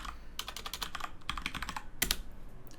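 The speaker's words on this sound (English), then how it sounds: "we can simply come into the command prompt and type in hostname" Keys on a computer keyboard clack quickly in a few short bursts as a command is typed into a prompt, close and crisp with brief gaps.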